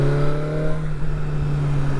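A BMW S1000R Sport motorcycle engine pulls hard under acceleration, a close, steady droning tone holding pitch for two seconds with a faint rise, and no talk over it.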